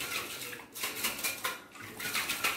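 Salt and water slosh inside a closed bottle shaken hard in two directions, giving a rhythmic series of splashing, rattling bursts about every half second, close and alone.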